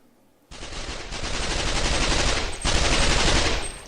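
Gunfire from a war video plays as dense, continuous machine-gun bursts, starting abruptly after a short quiet lead-in and staying loud and steady, with a fresh surge of shots near the end.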